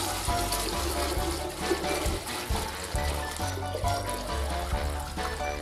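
Water pours steadily into cooking pots as 12 liters of sparge water are readied for home beer brewing, a continuous close splashing stream with no talk.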